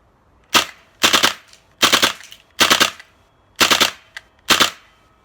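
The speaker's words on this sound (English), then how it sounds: "3-round burst." An HPA airsoft gun (high-pressure air) fires in 3-round burst mode: six quick bursts, each a tight triple of sharp snapping shots, spaced evenly about a second apart with silence between.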